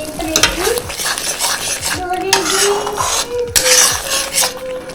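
Spice masala stirred in a pan with a spatula while cooking mutton-fat ghugni: loud, close metallic scraping and clinking strokes in a repeated rhythm over a constant sizzle.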